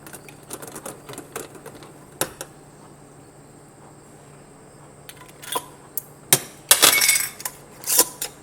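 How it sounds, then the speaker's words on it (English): A metal lid clinks and scrapes onto a glass jar of dill pickles and is screwed down, a string of small taps and then louder rattling twists near the end, with no voices. "you hold the jar with your clean rag while you put your lid on"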